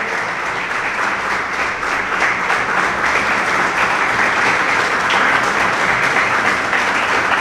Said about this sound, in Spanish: quiero pedir un aplauso para Horacio